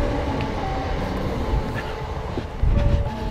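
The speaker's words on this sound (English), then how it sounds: "It's like the train just going past." A train rumbles past a runner during a half marathon in London's Royal Parks, a steady low roll with faint clatter that swells louder near the end, under some background voices.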